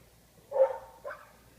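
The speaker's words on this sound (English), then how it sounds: "Excuse my dogs." A dog gives two short barks in quick succession, fairly quiet and a little distant, with near silence around them.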